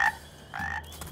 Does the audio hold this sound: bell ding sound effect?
no